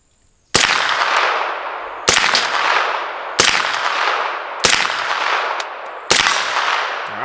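An MP5 submachine gun's action is cycled in a function check: five loud, sharp metallic clacks at roughly even intervals, each ringing briefly before the next, with no talking.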